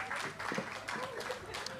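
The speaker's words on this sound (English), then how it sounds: "Can we give them another round of applause?" Audience applause at a STEM summit, a short burst of clapping from a crowd with voices mixed in, fairly steady and moderately loud throughout.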